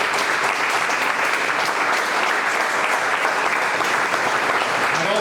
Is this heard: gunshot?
no